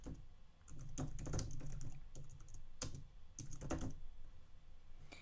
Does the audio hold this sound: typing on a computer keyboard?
yes